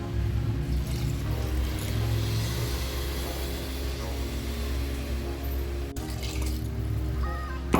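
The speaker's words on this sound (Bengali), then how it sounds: "এখন দিয়ে দেবো পরিমাণ মতো জল" Water is poured into a pot of rice, lentils and spices for bhog khichuri, a steady continuous splashing and rushing that runs for several seconds at close range, with a faint low hum underneath.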